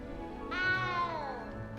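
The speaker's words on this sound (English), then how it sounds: "Oh, kitty cat!" A cat in the video game Hogwarts Legacy lets out a single clear, drawn-out meow with a falling tone, heard alone over faint background.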